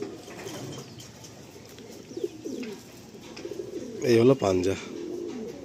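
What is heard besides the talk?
pigeons cooing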